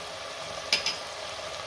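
Vegetables for Maharashtrian bhogichi khichadi sautéing in a pan with turmeric, red chilli powder and goda masala, giving a steady soft sizzle with one or two brief scrape or stir accents, close and fairly quiet.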